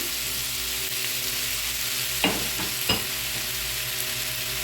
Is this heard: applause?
no